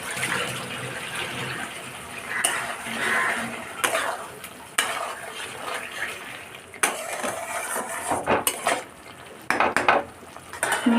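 Fried potatoes being stir-fried in spice paste in a pan, with repeated scraping and clattering of a metal spatula against the pan over a soft sizzle, close and irregular in rhythm.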